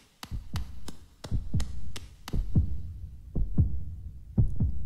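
Heartbeat in Hollow Knight: a deep, regular thumping pulse repeats about a dozen times in an otherwise near-silent space, each beat a close, heavy low thud, steady and unaccompanied.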